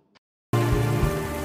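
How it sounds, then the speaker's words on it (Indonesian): Steady rain falls in a dense, continuous hiss that starts abruptly after a brief quiet moment and continues evenly, with no voices. "Lagi-lagi Sunwo datang dengan membawakan payung karena hujan turun"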